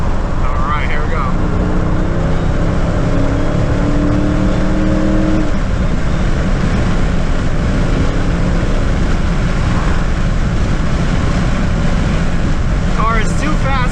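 A Dodge Hellcat on new rims and Continental ExtremeContact tires pulls hard in fourth gear from a 60 mph roll, its engine note rising steadily over several seconds inside the cabin, with steady road and wind roar underneath.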